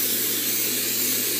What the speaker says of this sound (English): Spray the roots and you can see it getting white.